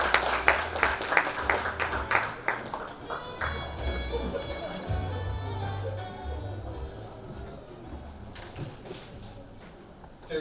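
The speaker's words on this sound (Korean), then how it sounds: "큰 박수로 맞이해주시기 바랍니다." Audience applause at the Jeju Forum 2026 opening ceremony, welcoming the Jeju Special Self-Governing Provincial Council chairman to the stage; dense clapping rises at the start, then thins into a softer, sustained patter that fades toward the end.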